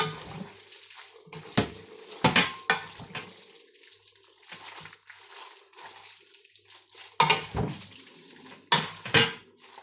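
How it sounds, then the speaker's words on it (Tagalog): Pasta sauce with coriander is stirred in a pan, heard as intermittent wet scraping and swishing with a soft sizzle beneath, faint and close, with no talk. "Haluin natin ito"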